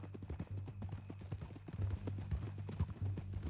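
Horse hooves clip-clop at a steady walking rhythm in Red Dead Redemption 2, close and fairly loud, with a low droning bed beneath and no talk over the steps.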